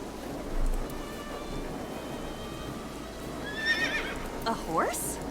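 A horse neighs in the video game AI: The Somnium Files, a clear rising and falling whinny near the end over a steady background of rain-like noise.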